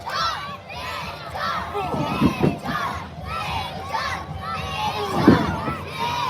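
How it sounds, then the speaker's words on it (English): Crowd at the Lumby Days wrestling show cheering for a wrestler, loud shouts and yells from many voices, with several sharp whoops rising above the noise. "And the crowd is getting behind him."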